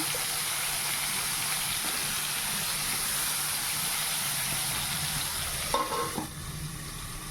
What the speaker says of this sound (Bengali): এই যে বেগুন ভাজাটা চাপিয়ে দিলাম